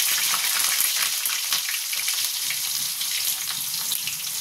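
Potatoes sizzle in hot oil tempered with black cumin seeds for a pumpkin-greens curry, a dense, continuous, fairly loud frying hiss with small crackles throughout.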